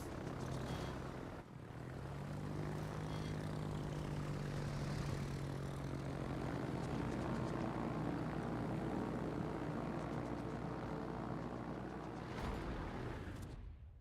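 Aircraft propeller engines of planes in the World of Warships naval combat game drone loudly and continuously, with a brief dip near the start and a fade at the end, no voices.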